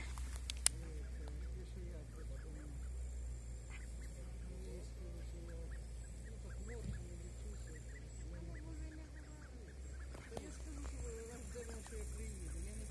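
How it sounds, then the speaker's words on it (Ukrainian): Ducks quacking and honking in a busy cluster at a forest lake beach in Morshyn, Ukraine, a steady low hum underneath and scattered clicks throughout. "Качки."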